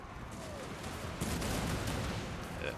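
Massed battlefield gunfire in the fantasy strategy game Total War Warhammer 2, a faint, distant crackle of volleys that carries on steadily and swells slightly partway through.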